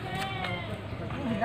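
Javanese goat, a female bought at a market, bleating briefly and close by amid a steady background of voices and murmur.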